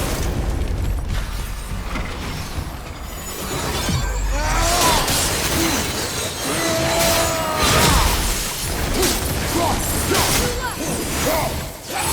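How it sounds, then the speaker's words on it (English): Objects shattering in the video game God of War, with repeated crashing breaks and heavy booming impacts from about 4 s onward over a loud rumbling background. "I will never get tired of shattering things with this"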